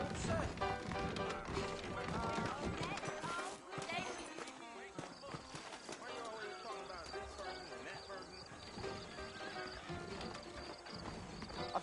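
Horse hooves clip-clop steadily in Red Dead Redemption, the rhythmic footfalls of riders setting out on the trail, mixed with other game sounds and voices.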